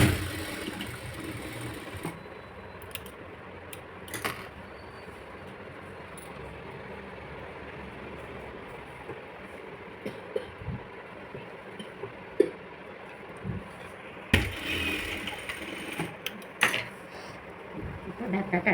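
A sewing machine stitches a blouse in short runs, a fine rapid whirring that starts and stops several times at moderate volume, broken by soft handling clicks and quiet pauses.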